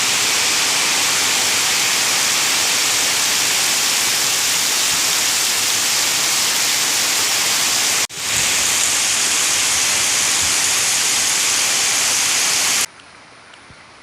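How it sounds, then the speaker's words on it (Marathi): Heavy rain with stormy wind in Konkan: a loud, dense, unbroken roar of rainfall fills the scene, with a brief break near the middle, before it suddenly drops to a much quieter hiss at the end. "जोरदार वादळी वाऱ्यासह पाऊस पडतोय."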